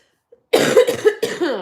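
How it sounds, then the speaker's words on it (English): A few harsh coughs in quick succession, close to the microphone, after a brief faint click. "Happy when this cough is gone."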